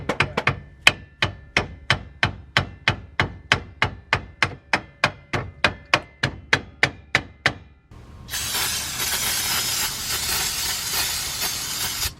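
Sharp metal taps come during a wheel bearing job on a VW Beetle, about twenty evenly spaced close knocks in a steady rhythm, followed by a sustained broad hiss.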